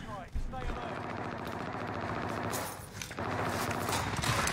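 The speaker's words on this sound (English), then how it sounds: "Where's all that shooting coming from" Gunfire crackles in Warzone, a dense continuous spatter of distant and mid-range shots and rapid bursts filling the mix while voices talk over the fight.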